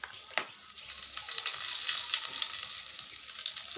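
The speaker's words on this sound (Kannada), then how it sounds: "ಕರಿಬೇವು ಹಾಕ್ತಾಯಿದ್ದೀನಿ ನೋಡಿ." Curry leaves drop into hot oil in a pan while making egg rice over a stove, setting off a sharp burst of sizzling that swells into a steady, close crackling fry.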